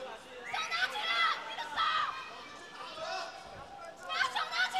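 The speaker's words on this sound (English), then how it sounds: "You can hear in the background, they're saying, keep your hands up." Background crowd at a fight event shouts and chatters in bursts at moderate distance, individual voices calling out over a busy room while a commentator talks in the foreground.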